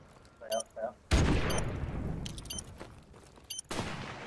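Gunfire in Call of Duty Remastered, a loud nearby burst of rapid shots and booms that rings out and decays, with a later sharp shot, amid brief voice chat and short sound effects.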